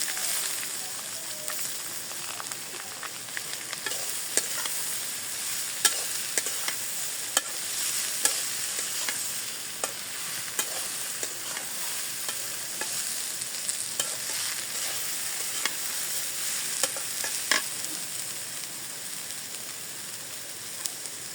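Chopped onion and potatoes sizzle steadily in hot oil, a continuous close hiss of frying with occasional clicks and stirring scrapes, no one speaking.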